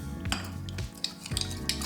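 A utensil stirs sugar and water in a container to dissolve simple syrup, giving close clinking and scraping against the vessel in a steady, irregular rhythm with no talking.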